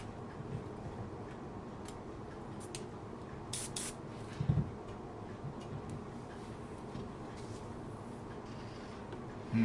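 A steady spray hiss from spray painting a model ship runs through the whole stretch, fairly even in level, with a few brief clicks and a soft bump partway through.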